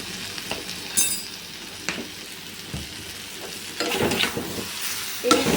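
Jackfruit curry frying in oil with turmeric added, a steady broadband sizzle with scattered louder scrapes and clacks of a spoon stirring the pan, close and alone.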